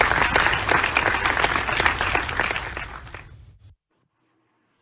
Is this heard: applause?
yes